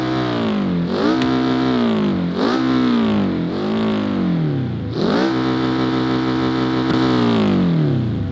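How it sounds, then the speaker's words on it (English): Car engine in BeamNG revving repeatedly, loud and close, with rising and falling sweeps of engine pitch as the throttle is blipped several times and then held longer near the end. "Wow, the engine actually sounds better than I thought it would."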